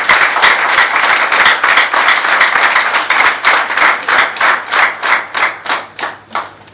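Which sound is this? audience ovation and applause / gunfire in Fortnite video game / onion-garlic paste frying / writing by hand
audience ovation and applause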